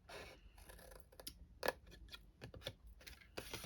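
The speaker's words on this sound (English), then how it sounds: "you want to snip upwards on this one" Scissors snip upward through scored cardstock for a papercraft candle cube, making a few crisp, close cuts spaced irregularly over a quiet background.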